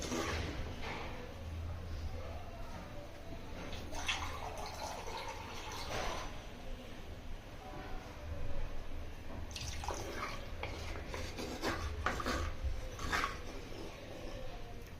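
Water poured into a cooking pan for a kofta curry, a faint trickling and dripping splash that comes and goes in short pours against a quiet kitchen background.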